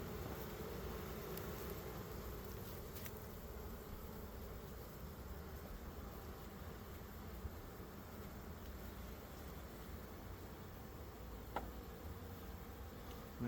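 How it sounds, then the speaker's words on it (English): Honey bees buzz around an open hive during an inspection, with a steady, low, dense drone that continues throughout and includes a few faint clicks. "So the bees are starting to work on these."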